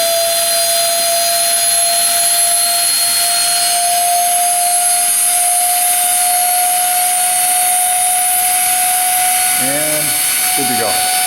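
The spindle of a Fischer Dottikon center hole grinding machine runs with a steady, piercing high-pitched whine and a sustained tonal hum over constant broadband hiss. Brief speech fragments break in near the end.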